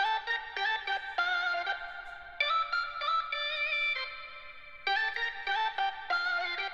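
A processed, vowel-like talk box style synth loop for a G-funk beat, bright harmonic phrases in choppy bursts with short gaps, loud and close with effects, no talking.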